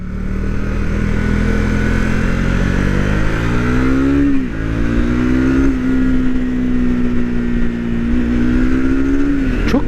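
A motorcycle engine, loud and close, climbing in pitch under throttle, dipping briefly at a gear change, then holding a steady drone before a final drop-off; no speech.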